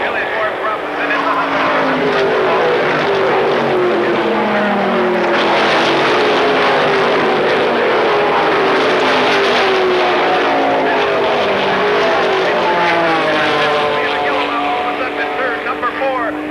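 Trans Am race cars roar past at Laguna Seca in 1982, a loud continuous engine drone that shifts in pitch as the leaders go by, with talk mixed in.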